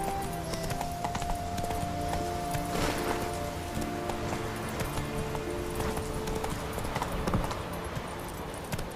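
Hooves of the horse Roach pound in a steady galloping rhythm through The Witcher 3 game world, loud and continuous, with a tonal hum of game music or ambience underneath.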